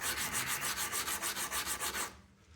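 A Remington 722 rifle trigger guard rubbed with 120 grit sandpaper: about fifteen quick, even back-and-forth scratching strokes, close and loud, ending abruptly.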